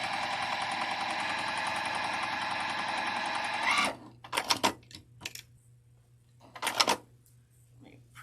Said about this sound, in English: I'm sewing a lot slower than I normally do because I want that presser foot pressure